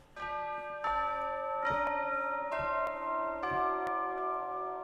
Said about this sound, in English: Orchestral bell ensemble.